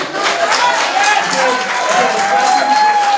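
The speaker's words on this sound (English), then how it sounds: "Clapping's great, clapping's great" A crowd at a Jersey City mayoral debate applauds, a dense wash of clapping with shouts and a raised voice mixed in, loud and sustained throughout.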